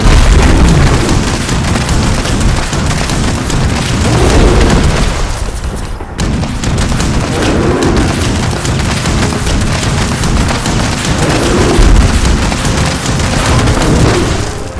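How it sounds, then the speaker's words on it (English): Gunfire and booming blasts in the video game Fallout 76 on Xbox One form a loud, continuous barrage of overlapping shots and explosions throughout, with only a brief dip midway. "I couldn't hear you over the gunshots."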